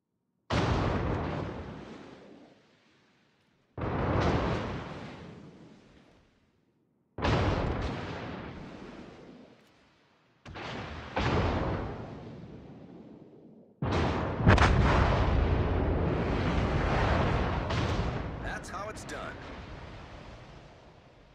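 Warship main guns fire in World of Warships: four deep booming salvos spaced a few seconds apart, each fading out, then a fifth blast that rolls into a longer, sustained rumble.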